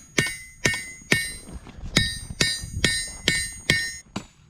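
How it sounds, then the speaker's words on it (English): Heavy four-pound hammer strikes land on hot steel being forged about twice a second, each a sharp ringing clang over a dull thud, close and loud. "You need a 4-pound for that."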